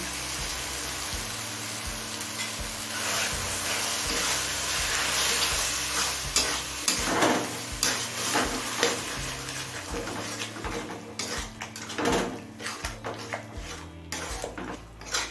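Chicken mince with spices and a little water being sautéed in a pan over medium flame, with a continuous sizzle broken by a spatula scraping and clinking against the pan in uneven bursts.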